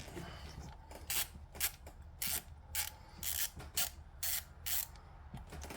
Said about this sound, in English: Let me get a ratchet for whatever size this is.